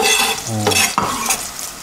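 Finely chopped onion sizzles loudly in a knob of butter in a saucepan, with a quick stir and a clink of utensil against the pan.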